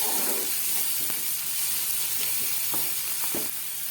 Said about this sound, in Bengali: ধনেপাতাটা আমি পেঁয়াজের সঙ্গে একটু ভাজবো বলে দিলাম